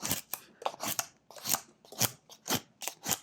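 A knife whittles a small wooden tortoise, slicing off thin shavings in a quick series of crisp, close scraping cuts with short pauses between strokes.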